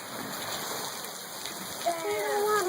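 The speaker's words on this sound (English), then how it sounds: "I wanna go out in the rain." Rain falling outdoors makes a steady, dense hiss of drops on surfaces throughout, with a faint high thin tone rising near the end.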